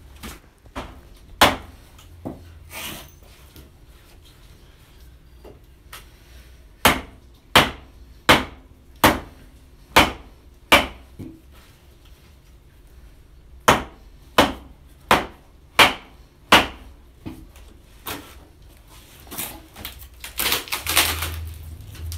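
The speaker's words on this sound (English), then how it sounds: "I can start driving wedges in," Wedges hammered into rough-hewn timber to split it: a long run of sharp, ringing metallic blows, some spaced irregularly and some in a steady rhythm of about one strike per second, close and loud, ending in a brief rustle of handling.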